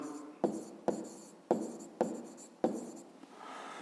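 Pen writing numbers on paper during a fifth-grade maths exercise: five short, crisp scratching strokes in an uneven rhythm, close and quiet, followed by a soft rub.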